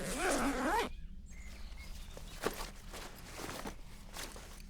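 A zipper on a picnic bag pulled open in a quick rasping burst at close range, followed by soft rustling and handling noises in a quiet setting.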